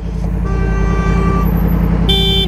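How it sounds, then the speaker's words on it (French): A car horn honks loudly on a Marseille street early in the morning, a sustained tonal blare with a second sharper honk near the end, over steady traffic rumble. "Pourquoi il klaxonne?"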